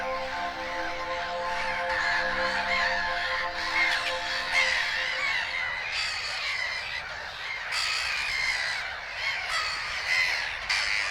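A nesting colony of black-headed gulls on islands in flooded gravel pits fills the air with harsh, overlapping squawks and cackles. Near and far birds call continuously in a busy, loud chorus.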